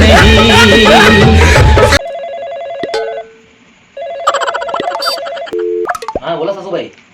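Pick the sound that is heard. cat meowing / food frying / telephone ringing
telephone ringing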